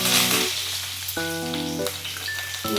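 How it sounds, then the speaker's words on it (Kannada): Cumin and mustard seeds, with a little urad dal, sizzle in hot oil as a bright, crackling hiss, partly overlaid by steady melodic background music. "ಎಣ್ಣೆ ಬಿಸಿ ಆಯಿತು. ಜೀರಿಗೆ, ಸಾಸಿವೆ ಹಾಕೋಣ."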